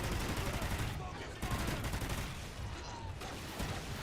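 Rapid automatic gunfire from Call of Duty: Ghosts Extinction mode, loud and near, in dense continuous bursts with brief dips in between, filling nearly the whole stretch.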